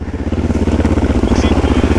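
A motorcycle engine revs steadily and loudly with a rhythmic pulsing throb, close by, as the bike rides through mud on an offroad route in Serra de San Mamede, Ourense, in winter.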